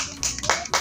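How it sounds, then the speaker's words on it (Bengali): A small audience claps for a performer in a few short bursts of hand claps, spaced apart with brief pauses between them and fairly close by. "সামিয়ার জন্য একটা হাততালি হয়ে যাক"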